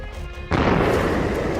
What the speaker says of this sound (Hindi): तेहरान की सुबह एक बार फिर धमाके की आवाज से कांप उठी